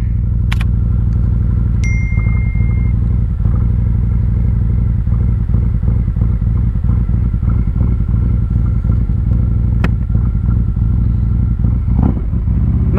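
A Harley-Davidson motorcycle engine warms up at idle, a steady close, loud low rumble with a few light metallic clinks and dings over it and no talk.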